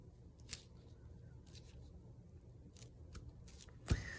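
Scissors snip paper while a junk journal notebook is being made, a few short quiet cuts spread out at irregular intervals and one sharper snip near the end, heard against a faint background hum.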